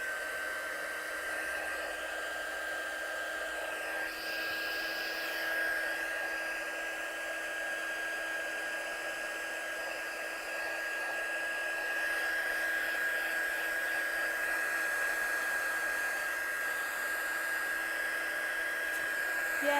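A hair dryer blows over wet ink on paper, giving a steady, even whir that runs unbroken for about twenty seconds with nothing else heard.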